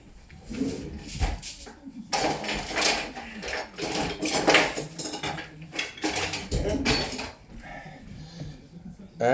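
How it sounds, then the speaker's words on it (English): A whisk beating pancake-style batter of flour and water in a bowl, rapid clattering scrapes against the bowl in bursts, close and loud, with people talking over it. "And just whisk away."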